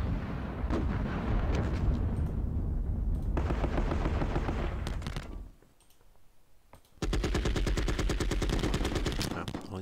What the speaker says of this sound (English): Let's take some machine gunners and start laying down some suppression fire on that infantry there.